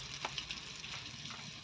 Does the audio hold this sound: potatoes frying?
yes